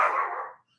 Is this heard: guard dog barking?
yes